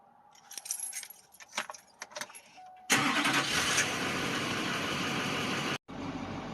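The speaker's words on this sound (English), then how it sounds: "We're going to run the truck for about 15 minutes." A truck engine cranks after faint key jangles, catches loudly and settles into a steady, close idle, briefly cutting out near the end before resuming.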